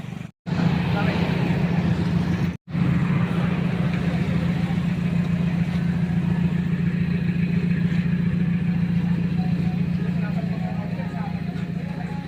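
A vehicle engine idles steadily with a strong low hum and light mechanical clatter, loud and close, running continuously apart from two very brief dropouts near the start.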